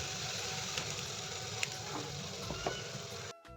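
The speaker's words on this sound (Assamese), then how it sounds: "বিলাহী আৰু পিঁয়াজৰ পেষ্টটো মই এতিয়া কেৰাহীত দি দিম।" Tomato and onion paste frying in hot oil in a kadai, a steady bright sizzle throughout with a few faint clinks of stirring, alone and close before it cuts off abruptly.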